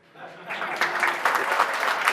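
Audience applause at a technology user group talk, clapping rising from scattered hands to a steady ripple of claps.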